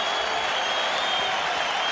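The Fenway Park baseball crowd at the 1986 World Series roars and applauds in a dense, steady wash of cheering.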